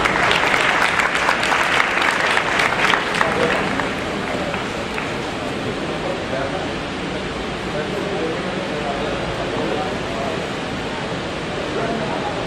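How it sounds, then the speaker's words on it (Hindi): An audience applauds at a school association event, dense clapping loud for the first few seconds then settling into a softer, steady crowd rumble that continues to the end. "आपकी तालियां हमें स्टेज तक आने पर मजबूर करती हैं।"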